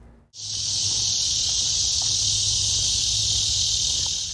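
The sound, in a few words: cicadas buzzing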